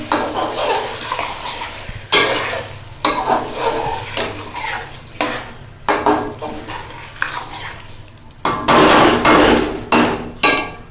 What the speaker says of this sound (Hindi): दो मिनट के बाद हम इसको खोल के इसमें चम्मच हिलाएंगे।